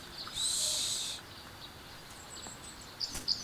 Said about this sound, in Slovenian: Zdaj smo tiho in lahko slišimo ptice.